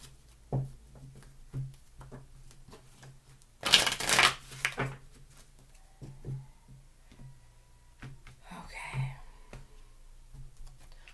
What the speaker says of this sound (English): let's do 3 shuffles and a deck split